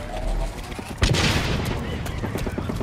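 A grenade explosion in the shooter game Blacklight: Retribution gives one sharp, loud blast that cuts through ongoing gunfire, followed by scattered crackling shots and game noise.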